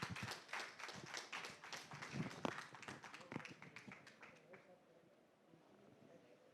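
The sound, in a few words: audience applause for speaker on stage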